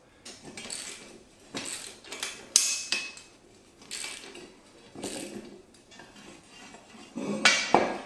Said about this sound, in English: take your other ratchet and crank her down